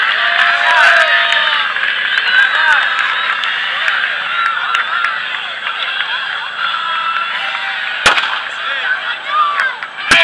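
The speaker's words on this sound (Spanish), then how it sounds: "Venga, señores, aplaudir, hombre" Crowd at a race prize ceremony applauding and cheering continuously as finishers are called up, a dense steady wash of clapping with voices mixed in and a couple of sharp bangs near the end.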